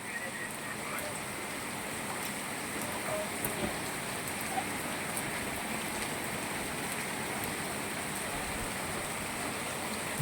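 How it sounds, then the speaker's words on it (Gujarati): Continuous steady monsoon rainfall in Moti Gop, Gujarat, with a soft, even hiss of drops and a faint occasional patter, no voices. "વરસાદ થોડીક ગતિ પકડે તો ઓર મજા આવે"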